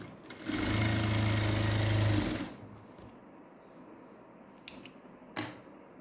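A sewing machine runs in a steady loud burst for about two seconds while stitching a folded net cloth puff sleeve, then stops, followed by a couple of faint clicks and handling sounds.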